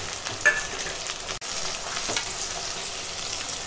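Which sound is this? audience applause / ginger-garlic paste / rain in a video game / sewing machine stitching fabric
ginger-garlic paste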